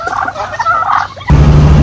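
A turkey gobbles in a rapid warbling burst, followed by a sudden loud engine-like rumble.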